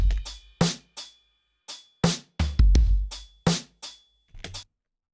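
Demo track of vocal and drums run through a reverb plugin: short, punchy percussive hits and vocal bursts in an uneven rhythm, separated by silent gaps, close and dry-sounding, about a dozen distinct hits.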